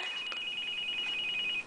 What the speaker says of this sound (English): Whose phone is that now?